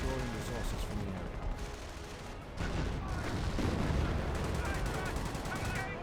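A light anti-tank half-track firing in the WWII strategy game Company of Heroes, its shots mixed into a dense, continuous battle of gunfire and distant artillery, moderately quiet.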